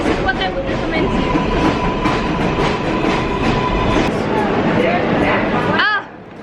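A train rumbling and clattering along rails, loud and continuous with rolling clickety-clack, while people talk nearby; the din drops away abruptly near the end.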